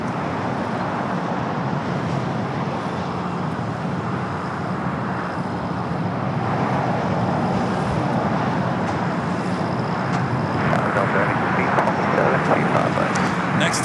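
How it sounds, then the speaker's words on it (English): An airliner takes off from a south side runway at LAX, a steady broad roar of jet engines holding throughout, with a faint rise near the end and no clear talk over it. "takeoff here on the south side"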